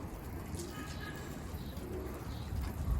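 Pigeons coo softly inside a coop, their low murmuring calls rising and fading against a constant background hiss and rustle.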